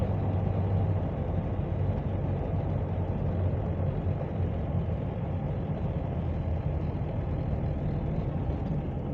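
A 1929 Ford Model A out on a drive, its engine giving a steady, loud low drone and rumble heard from inside the car, unbroken and even in level throughout.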